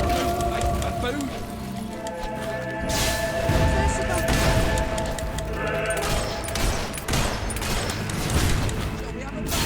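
Bursts of gunfire and crashing impacts in the fantasy game Fable 3, loud and irregular, mixed with shouting voices and battle noise.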